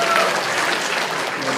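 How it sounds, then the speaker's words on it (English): Dense audience applause at a comedy show, loud and continuous throughout with crowd voices mixed in. "How many baby boomers by applause?"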